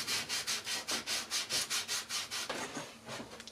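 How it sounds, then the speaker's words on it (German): Scooter cylinder head from a Malaguti Centro being sanded flat by hand, a loud close rhythmic rasping of about a dozen steady back-and-forth strokes that turn slower and uneven near the end. "Und wenn wir jetzt immer so weiterschleifen, bis das hier alles wieder komplett blank ist,"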